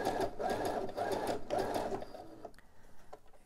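A sewing machine stitches elastic onto boxer briefs in short bursts, a close, steady mechanical whirr that runs for a few seconds and then stops into quieter handling noises.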